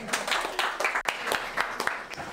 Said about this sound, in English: let's give Josh and Madison a warm round of applause